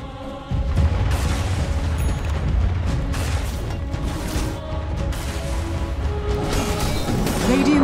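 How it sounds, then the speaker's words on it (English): A Dota 2 middle tower collapses during a professional match, with a loud crashing boom followed by sustained rumbling debris and clattering mechanisms over game sound for several seconds. "Radiant's middle tower has fallen."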